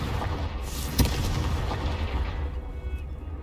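A single deep boom from a Confringo fire spell in the video game Hogwarts Legacy, a sharp burst with a rumbling low tail over a steady game background.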